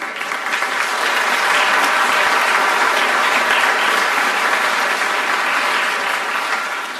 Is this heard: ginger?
no